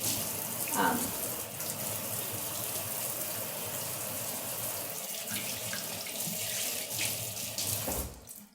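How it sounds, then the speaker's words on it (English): A kitchen tap runs steadily while someone washes their hands at the sink. The stream is close and continuous for about eight seconds, with a few small splashes, then it stops. "I'm going to wash my hands, make sure they're really clean."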